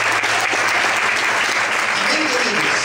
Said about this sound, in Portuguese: Você pode desocupar sua mão e aplaudir o Senhor.